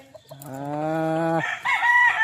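A fighting rooster crows close by in one long, loud, rising call, followed by a brief higher squawk; a soft cluck comes at the very start.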